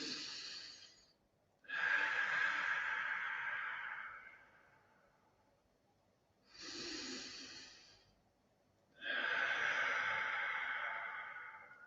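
Slow paced breathing drill with a 1-to-2 ratio: a short inhale followed by a drawn-out exhale twice as long, repeated twice, breathy and close with quiet pauses between.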